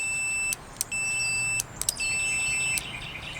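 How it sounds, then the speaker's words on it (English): Two sustained, high-pitched electronic beeps from a continuity tester checking a Jeep Wrangler YJ winch bump switch, each about a second long, separated by brief clicks, with no talking. "Hear the beep? That means I got continuity"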